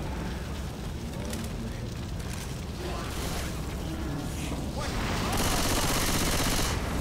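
Gunfire from the Left 4 Dead 2 video game crackles in a dense, continuous burst over steady game noise, growing louder and harsher toward the end.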